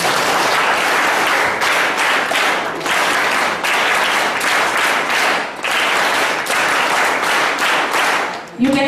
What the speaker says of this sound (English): I want you to give a chair clap starting now for all the innovators